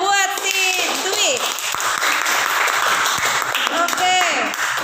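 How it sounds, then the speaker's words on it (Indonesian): A classroom of students applauds a classmate during a science lesson on the vernier caliper, a steady wash of clapping heard close and loud, with voices talking and calling out over it throughout. "Tepuk tangan dulu buat si Dwi."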